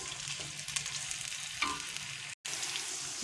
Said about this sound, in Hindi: हमारे प्याज में से कलर चेंज हो गया, उसका देखिए पकना शुरू हो गया, कलर चेंज हो गया और मसाला हमारा अच्छी तरह से फ्राई हो गया